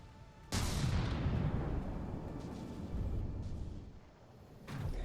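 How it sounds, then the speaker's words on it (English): Rapid-firing mass driver weapon in a space strategy game, heard as a dense rumbling barrage of booming shots that surges, eases and resumes, loud and close. "for a mass driver, it's pretty rapid firing"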